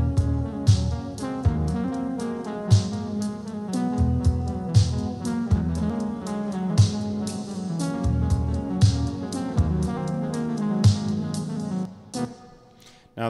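A looped music sample pitched down seven semitones plays with its intro, full and dense with steady rhythmic chord hits and bass, then thins out and drops into a short gap near the end.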